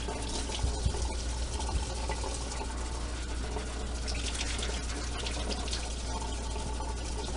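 Tap water pours continuously over potatoes being rinsed at a sink, a steady broadband splash and rush with a few faint knocks underneath.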